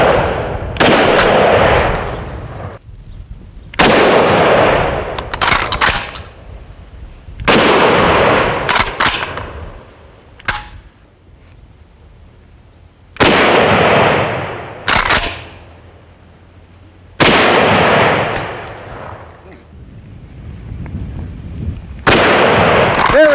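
Kel-Tec KSG410 shotgun firing slugs at an outdoor range: about eight loud, sharp blasts spaced a few seconds apart, some in quick pairs, each followed by a ringing decay, with no talking.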